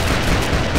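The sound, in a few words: gunfire from shooting in LEGO Batman video game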